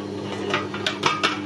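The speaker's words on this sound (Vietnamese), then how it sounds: "Nấu một nồi nước sôi. Sau đó anh chị em và các bạn cho vô sửng nè" Eggplant pieces go into a steamer pot over boiling water, heard as a few light metallic clinks and knocks of cookware spaced over a second and a half in a quiet kitchen.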